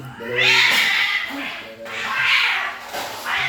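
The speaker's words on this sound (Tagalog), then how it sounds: "Pusa, tumakbo na." A cat meows several times in drawn-out, wavering cries, close and fairly loud, while a voice is also heard at points.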